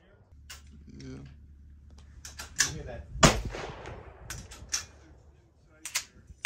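Bolt-action rifle shots ring out at an outdoor shooting range: a few sharp cracks spaced over several seconds, with the clatter of the action and people chatting in the background.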